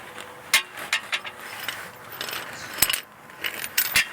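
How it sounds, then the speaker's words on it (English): A ratchet works loose the bolts on a transmission cross member of a 1998–2002 F-body car, a close rapid series of metallic clicks in short bursts with brief pauses between them. "So you ratchet."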